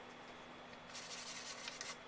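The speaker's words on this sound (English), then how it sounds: "Now I just have my sanding block" Soft, rhythmic scratching of a sanding block rubbed back and forth over cherry wood edge banding, quiet and close with no voices.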